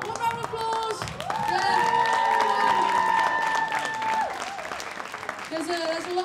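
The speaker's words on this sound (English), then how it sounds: "one round of applause" An audience applauds after a world music performance by college music students, steady clapping that swells and holds, with sustained tones and a voice layered over it.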